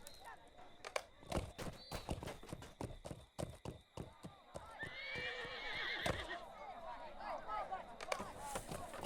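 Horses in the video game LOTRO whinny and neigh loudly over rapid clip-clop hoofbeats, with a long drawn-out neigh in the middle and a mix of galloping and snorting throughout.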